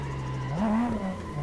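A racing car slides in a driving game, its tires squealing with a steady pitched whine that rises and bends as the engine note shifts, all within a brief moment.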